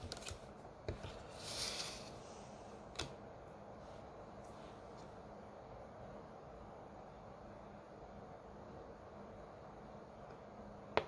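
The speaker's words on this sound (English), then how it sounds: "They shuffle beautifully too." A deck of tarot cards is shuffled quietly and close, with soft riffling bursts and a few sharp card snaps early on, then near-silence.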